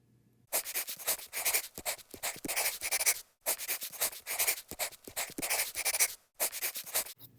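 Pen or pencil on paper writes out circuit loop equations by hand in three bursts of quick scratching strokes separated by short pauses, close and quiet, with no talk.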